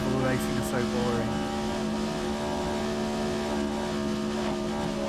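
Race cars in the racing video game GRID 2019 drone around an oval track with sustained, steady engine tones and occasional revving shifts, heard under talk.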